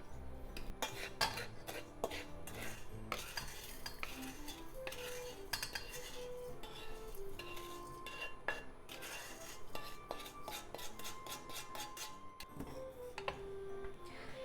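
A utensil scrapes and clinks against a frying pan and bowl while browned food for Japanese potato croquettes is scooped out, with steady close metallic scraping and tapping throughout.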